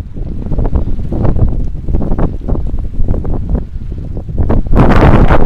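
Strong gusting wind buffeting the microphone in loud, rumbling bursts, growing to a continuous roar near the end, outdoors in spring as snow begins to fall.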